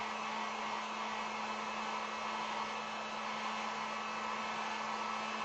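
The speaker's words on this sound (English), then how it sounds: "I am going to throw the heat gun on this for just a second, and we'll get that second coat on." Heat gun blowing steadily over acrylic paint on a wood sign, a continuous close whooshing hum with a constant tone, unbroken throughout and with no talking.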